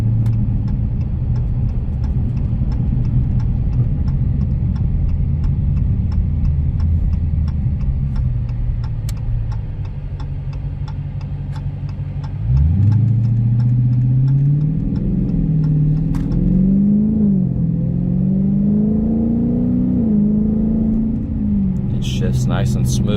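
A 2021 Dodge Challenger RT Scat Pack Widebody rumbles steadily from inside the cabin, then its engine note rises and falls through a series of smooth gear shifts, with a faint ticking under it and someone talking throughout.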